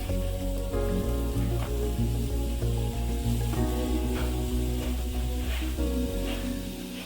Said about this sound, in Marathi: गॅसवरती आपण कढाई ठेवली लोखंडाची आता आपण यामध्ये कांदा टाकत आहोत